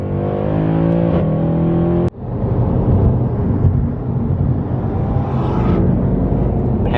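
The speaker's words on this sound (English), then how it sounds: "Oh, the overrun. Listen to the downshifts." Straight-piped Mercedes C63 AMG Black Series engine, loud and close, a high rev note cut by a sharp downshift, then rumbling, crackling overrun as the car keeps pulling.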